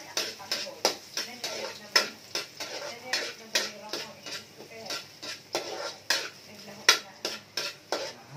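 Garlic sautéing in a pan for ginataang sitaw at talong (string beans and eggplant in coconut milk), with a spatula scraping and clinking against the pan in quick, irregular strokes over a light sizzle, close and fairly soft.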